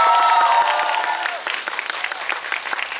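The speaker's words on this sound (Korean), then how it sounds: "축하의 박수 한번 드릴까요?" Audience applause in celebration during a film talk event, a loud, continuous burst of many hands clapping that holds steady for three seconds, a faint tonal hum fading out underneath early on.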